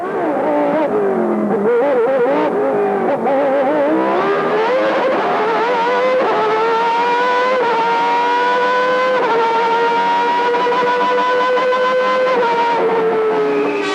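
A Formula 1 car on a fast qualifying lap, its high-pitched engine screaming loud and close, climbing and shifting through gears with steady, sustained revving and no talk.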